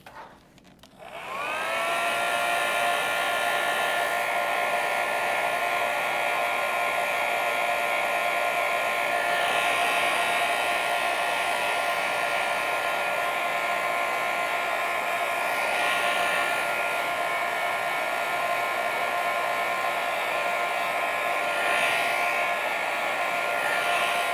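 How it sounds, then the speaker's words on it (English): A hair dryer blows steadily and loudly over fluid acrylic paint for the whole stretch after a brief start-up, its whine holding constant with slight wavers. "I'm gonna hit this with the blow dryer"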